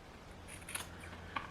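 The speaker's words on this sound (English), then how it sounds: "Now we're going to clip this corner" Scissors snipping the corner of a sewn fabric collar for a Vogue garment, two quick, faint clips close by in an otherwise quiet room.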